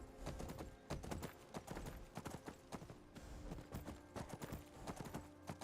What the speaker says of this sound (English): They're also very fast horses